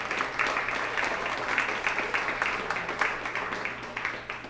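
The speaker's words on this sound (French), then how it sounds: "Judith Lefebvre, merci beaucoup, on l'applaudit" A crowd applauds steadily, many hands clapping in a dense, continuous patter that carries on throughout.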